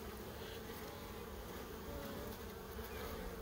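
Bees carrying pollen into a hive in February hum in a dense, steady buzz close by, a continuous swarming drone with no voices.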